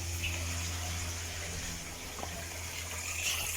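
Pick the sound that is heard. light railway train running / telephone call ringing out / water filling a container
water filling a container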